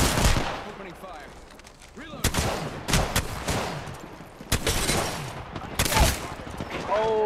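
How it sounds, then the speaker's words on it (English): Video game gunfire, rapid bursts of automatic shots and scattered single cracks in quick succession, loud and close, with a player talking over parts of it. "Opening fire."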